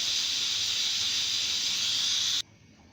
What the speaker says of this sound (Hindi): प्रेशर कुकर में से भाप अच्छी तरह से निकल गई है।